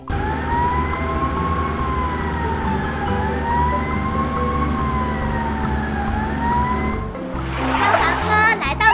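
An animated cartoon fire truck's siren wails in a steady rising-and-falling cycle, loud and continuous for about seven seconds, before it gives way to a brief clattering mechanical sound at the end.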